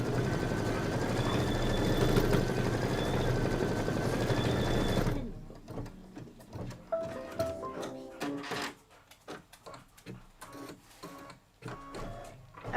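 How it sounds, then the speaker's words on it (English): An embroidery sewing machine stitches a melted wax tack-down line on fabric for a Kimberbell Pumpkins & Potions sew-along, giving a steady, close mechanical whir for several seconds before breaking into quieter, irregular clicks and handling noises. "now it's going to stitch the melted wax tack down line"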